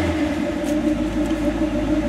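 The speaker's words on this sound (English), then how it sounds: "gonna rev it up a little bit. Stumbly a little bit. A little cold, and the carb's not too tuned." Cold 1984 Chevy C10 pickup with an untuned carburetor, its engine running rough and stumbly with a low steady rumble, close and loud, without clear rev peaks.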